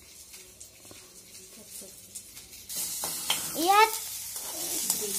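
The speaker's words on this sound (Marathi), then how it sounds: "ग्रेव्हीसाठी आपण टोमॅटो, कांदा, काजू, अद्रक, लसूण, पांढरे तीळ टाकलेले आहे आणि भाजून घ्यायचे।" Tomato, onion, cashew, ginger, garlic and white sesame roast in a pan for a gravy, with soft sizzling and stirring that grows louder and busier partway through, and a voice talking over it.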